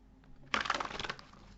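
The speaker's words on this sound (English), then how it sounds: "I'll shuffle." Tarot cards being shuffled by hand, a dense burst of crisp riffling and slapping that starts abruptly and runs for about half a second, close and fairly loud, with no talk over it.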